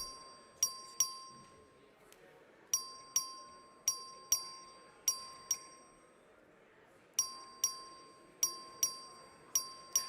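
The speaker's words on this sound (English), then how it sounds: "The clerk will ring the bell." A voting bell in a state House chamber rings repeatedly in bright metallic strikes, each clear ding fading quickly, in irregular clusters over a quiet room murmur.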